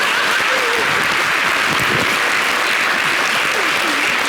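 A television studio audience on a French talk show applauds in a dense, loud, sustained wash of clapping throughout, with faint voices mixed underneath.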